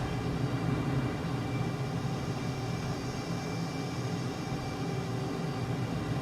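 A jet aircraft roars at full afterburner in Microsoft Flight Simulator, a steady, dense, unbroken engine drone held at constant level throughout, with no voices.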